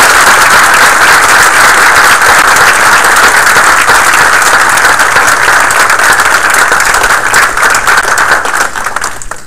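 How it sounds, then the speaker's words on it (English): Sustained, loud applause from a council meeting audience honoring Citizens Police Academy graduates, dense steady clapping throughout that thins slightly toward the end. "We have another round of applause, please, for our Citizens Police Academy graduates."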